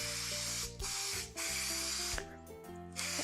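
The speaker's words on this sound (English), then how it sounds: "we need to spray our pan with cooking spray." Cooking spray hisses onto a baking pan in a few loud, close bursts separated by brief pauses, heard alone without speech.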